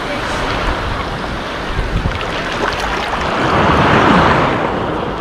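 Light sea waves washing onto the stony shore at Lazarevskoye on a summer morning, a close, steady wash and hiss swelling slightly partway through, with rough wind buffeting the microphone.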